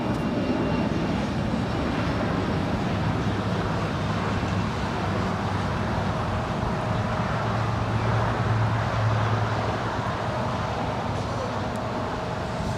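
A United Express CRJ-200 LR regional jet departs LAX, its engines a steady, broad roar that holds evenly throughout with a slight swell near the end and no voices.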